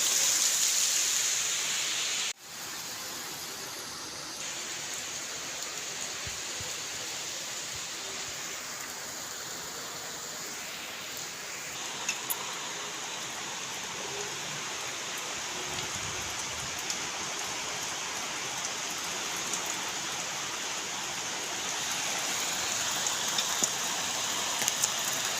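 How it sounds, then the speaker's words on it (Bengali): Heavy rain falls outside, a continuous broad wash of drops drumming on surfaces. It holds steady and moderately loud throughout, with a sharp thump early on and no voices. "তো ভালো জোরেই বৃষ্টিটা এসছে।"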